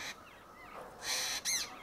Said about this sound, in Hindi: जहाँ रहता हूँ पक्षियों की चहचहाट सुनाई देती है